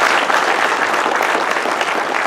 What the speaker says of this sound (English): I think we should give him a big applause from everyone.